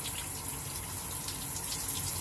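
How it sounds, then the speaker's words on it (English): Cool water runs steadily from a tap for rinsing after a shave, a close, even gushing stream with no voices. "rinse off. And I use cool water for that."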